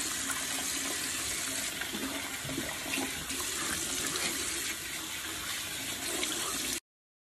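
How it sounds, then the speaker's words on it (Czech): Tap water gushes steadily into a sink while someone washes their face in Brno, a loud, continuous close-up rush that cuts off abruptly at the end. "teď jsem v Brně a myju se tady obličej"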